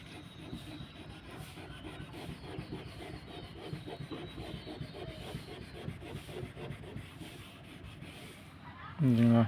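A small scrubber with dishwashing liquid works over a scratch on white car paint, making a steady, soft back-and-forth rubbing under someone speaking, with a louder thump near the end.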